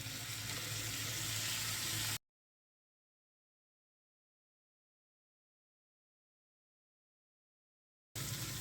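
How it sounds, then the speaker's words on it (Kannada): Chopped tomatoes frying with masala in a pan, a steady loud sizzle for about two seconds before a long silence, then the sizzle returns briefly. "ಈ ಟೊಮೆಟೊ ಎಲ್ಲ ಚೆನ್ನಾಗಿ ಬೇಯಬೇಕು, ಅಲ್ಲಿ ತನಕ ಫ್ರೈ ಮಾಡ್ಕೊಳ್ಳೋಣ"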